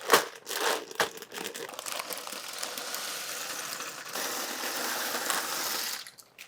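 One pound of large dry elbow pasta pours into a pot of salted water, a dense rattling, crinkling patter that runs steadily for several seconds after a couple of sharper knocks, then cuts off.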